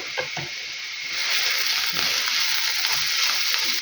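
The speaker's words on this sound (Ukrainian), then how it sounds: "Морква трошки посмажилася." Carrots sizzle steadily in a frying pan, a continuous close hiss with faint stirring scrapes, growing louder and denser after the first second.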